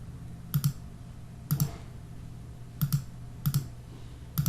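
Sharp mouse clicks, mostly in quick pairs, come at intervals while images are removed from a web page on a computer, close and crisp over a low steady hum.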